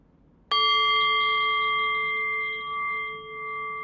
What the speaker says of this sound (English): I'll ring the bell to close us out